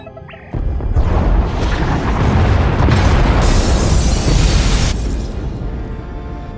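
Pod bays explode in the video game SWTOR with a loud, sustained roaring blast that starts suddenly and rumbles on for several seconds before easing slightly.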